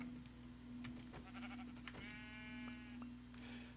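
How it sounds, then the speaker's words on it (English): Sheep in Minecraft bleating: a couple of short wavering bleats over a steady low game hum and scattered clicks, fairly faint, with no talking. "Sheep!"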